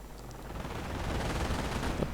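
Dense, continuous rattle of machine gun fire in a Company of Heroes battle, steady and loud throughout with a sharp burst at the very end, no voices.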